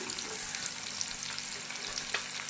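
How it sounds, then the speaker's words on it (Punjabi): Garlic and onion frying in a pan, a soft continuous sizzle with light crackles and stirring, close but fairly quiet, with no voices. "ਤੇ ਲਸਣ ਤੇ ਪਿਆਜ਼ ਨੂੰ ਹੁਣ 2 ਮਿੰਟ ਇਹਨਾਂ ਨੂੰ ਪਹਿਲਾਂ ਪਕਾ ਲੈਣਾ"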